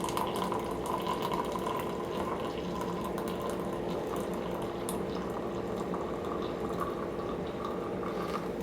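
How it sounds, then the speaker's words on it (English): Water is poured into an AeroPress coffee maker in a continuous, even stream that runs unbroken for several seconds at a moderate level, with no talking. "And then I'm going to just pour the water now to above the 2 mark."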